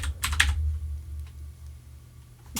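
Mechanical keyboard typing in the background, a quick flurry of clustered keystrokes near the start followed by a few sparse, fainter clicks over a low steady hum.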